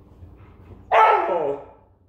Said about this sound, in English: You can't be having these barks and whines and talks during my video.